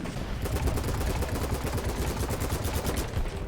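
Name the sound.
AK15 rifle gunfire in video game BattleBit Remastered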